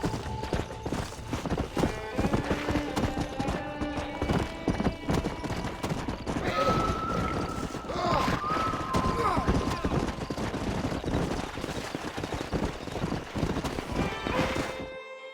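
Horses from Red Dead Redemption clop along steadily with repeated hoofbeats and whinnying neighs, close and fairly loud across the whole stretch, with game voices talking over them.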